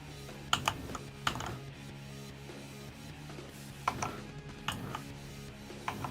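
Keys clack on a computer keyboard in a few separate bursts of quick taps, close and crisp, with quiet gaps between them and no talking.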